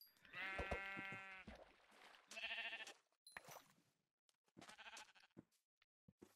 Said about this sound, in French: Oula, il y a plein de moutons.